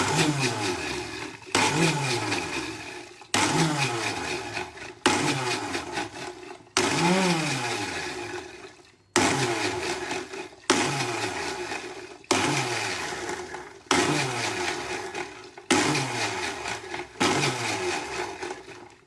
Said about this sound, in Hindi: हम मिक्सी का ढक्कन लगा के फ्रेंड्स इसको जो है बहुत धीमे धीमे पल्स मोड पे धीरे धीरे चलाना है हमें